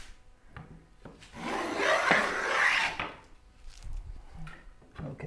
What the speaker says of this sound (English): planing wood.